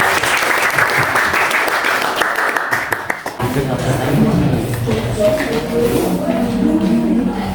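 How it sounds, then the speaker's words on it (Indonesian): A classroom group claps together for about three seconds in a dense burst of applause, then speaking voices take over in the room. "Ada yang kasih aplaus dulu teman-teman"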